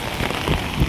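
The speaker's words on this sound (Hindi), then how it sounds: "बारिश भी हो रहा है" Rain falls steadily at Pahalgam, a close, dense patter of drops hitting surfaces in a brief, unbroken wash of sound.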